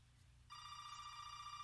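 A telephone ringing, its bright electronic tone starting abruptly partway through and holding steadily at low volume over a quiet hum.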